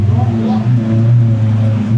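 A car engine idles and revs as the car is moved, a steady loud low drone that swells slightly and sits close, with no speech over it.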